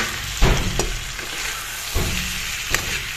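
Singhi fish fry in a pan with tomato and potato added, a steady sizzle broken by a few sharp scraping stirs at irregular intervals.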